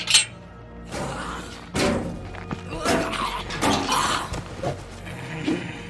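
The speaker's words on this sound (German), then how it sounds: "Der ist umgefallen, weil ich die Tür aufgemacht habe." In the State of Decay 2 video game, a door opens and a body topples over, giving several dull thumps and knocks spread across a busy game soundscape with a few brief noisy bursts.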